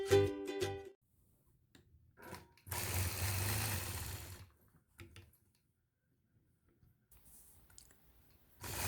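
A sewing machine stitches a diagonal line across a quilt block in short, close bursts of rapid whirring and clicking, the longest run lasting a couple of seconds, separated by quiet pauses.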